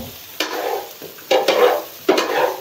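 Shawarma filling stirred in a pan with a spoon: three distinct scraping strokes with sizzling frying between them, close and loud.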